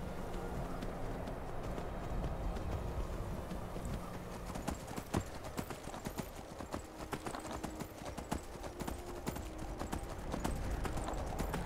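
A horse ridden in the video game Skyrim clip-clops along in a quick, steady hoofbeat rhythm, moderately loud over a constant background bed, with no talking.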